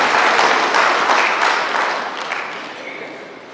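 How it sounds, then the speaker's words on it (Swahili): Steady applause from a large audience at an Iringa ceremony awarding certificates to villages for environmental conservation, a dense wash of clapping that slowly fades. "na wenyewe tuwapigie makofi wote."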